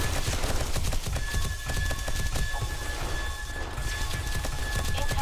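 Turrets on stands in 7 Days to Die fire rapid, continuous volleys, a dense rattling stream of shots loud and close throughout, with no talking.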